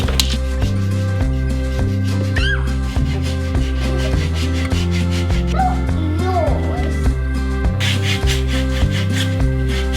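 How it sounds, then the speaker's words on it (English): A small handheld trim tool rasps and saws through wooden carpet gripper rods during stair runner fitting, a close, steady scraping in repeated rhythmic strokes. "we're going to make do with a little trim tool"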